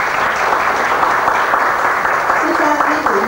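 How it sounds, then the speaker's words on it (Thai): An audience applauds for a Thai music teacher at a Thai traditional music performance, loud continuous clapping with a voice briefly audible underneath near the end. "ขอเสียงปรบมือให้คุณครูชนกสาเทศค่ะ"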